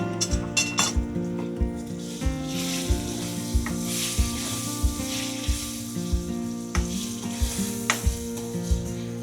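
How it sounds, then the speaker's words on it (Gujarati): A spoon stirs raw mango and jaggery mixture with coriander-cumin and turmeric powder in a hot pan for Gujarati vagharu, steady sizzling under rhythmic metallic clinks and scrapes roughly every half second, close and clear. "હવે આપણે હલાવી લેવાનું છે."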